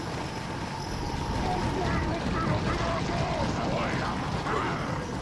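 Chickens cluck and squawk in a village setting in the 2005 game Resident Evil 4, their fowl calls steady and mid-level over continuous game ambience.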